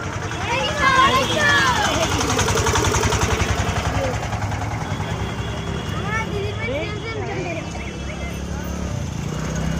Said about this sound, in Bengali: প্রচুর জ্যাম।